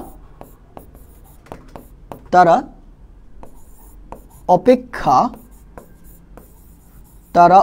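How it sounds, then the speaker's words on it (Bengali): Chalk or marker scratches out a sentence on a board during a live class, with rapid, close scraping strokes separated by short pauses and a few louder bursts of writing. "দেখেন আমি একটা বাংলা বাক্য লিখছি"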